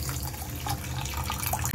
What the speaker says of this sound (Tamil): 100 grams of sugar ஆட் பண்ணிட்டு ஒரு டம்ளர் தண்ணி ஊத்திக்கோங்க